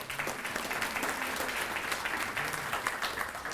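Steady, dense applause from an audience fills the room without a break at a community volunteer recognition reception, moderately loud and continuous.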